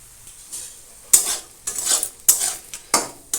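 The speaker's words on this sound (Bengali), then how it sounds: "ভালো করে নাড়াচাড়া করে নেব" A spoon scraping and stirring spices in a pan for Bengali papaya chana dal, several sharp clattering strokes about half a second apart over a faint sizzle, close and loud with no voices.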